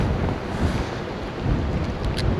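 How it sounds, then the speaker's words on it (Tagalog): Strong wind gusts and heavy rain batter a campsite with a rooftop tent, a dense roaring wash that swells and eases without a break, loud and close to the microphone. "Lakas ng hangin."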